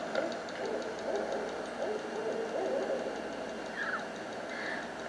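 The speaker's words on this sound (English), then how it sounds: "We got two owls there talking to each other." Two barred owls hoot back and forth in a Florida woodland, faint, distant calls over a constant low hum of background noise.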